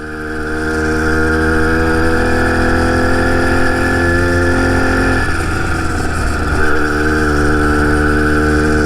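A two-stroke engine on a motorized bicycle drones steadily during a test ride, a buzzy close tone that holds level with a brief dip and change in pitch midway, no talking.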